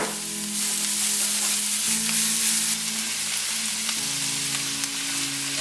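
Garlic sizzles loudly and steadily in a pan on medium heat, a close, continuous frying hiss with a faint low hum underneath and no voices.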